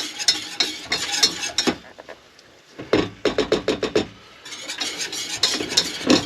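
A spoon scrapes and stirs flour into melted butter in a pan to cook a roux in a camper van kitchen. Close, uneven bursts of scraping and clinking come in rhythmic strokes, with a short quieter pause midway.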